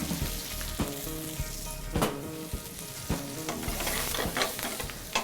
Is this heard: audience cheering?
no